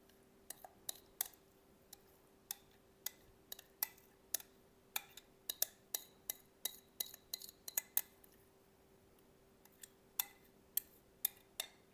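Metal utensils clinking against a bowl while ingredients for a diced salad with dressing are added and mixed, a quiet irregular series of sharp ticks and clinks over a near-silent background.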